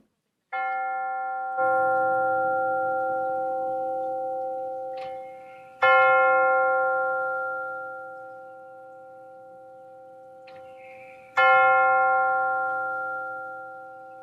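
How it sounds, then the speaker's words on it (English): A bell rings to open a worship service, struck several times with clear, resonant tones that ring out and decay slowly between strikes, alone in a quiet room. "center our hearts and minds for worship with the ringing of the bell"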